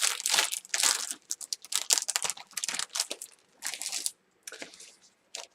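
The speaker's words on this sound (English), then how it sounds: "Just like crumple a little piece." A small piece of paper is crumpled close up in bursts of crisp crinkling and crackling, with brief pauses between the rustles and no talking.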